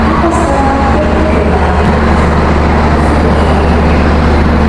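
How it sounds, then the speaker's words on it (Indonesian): Jayabaya train hauled by a CC 206 series locomotive rumbles loudly and steadily, with continuous low-frequency rolling noise and no voices. "lokomotif kita kali ini adalah CC 20605 di Poindok Cirebon"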